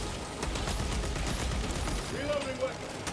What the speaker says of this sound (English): There's people sniping at us.